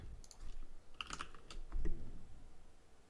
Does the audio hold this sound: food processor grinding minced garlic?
no